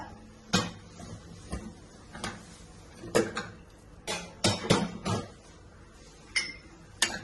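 Metal clanks and clinks of a cooled pressure cooker being opened after cooking horse gram, a series of sharp lid and pot knocks spaced irregularly, close and moderately loud with no talk.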